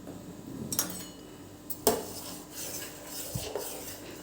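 A metal spoon stirs sweet chutney with sugar and jaggery in a pan, producing soft scraping and rubbing with a few sharp clinks against the pan's side, close and moderately quiet, with no speech.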